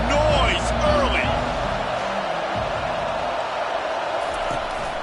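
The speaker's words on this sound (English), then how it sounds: "This crowd bringing the energy and noise early." Steady roar of a college football stadium crowd, loud and continuous, swelling slightly at the start with a faint voice underneath.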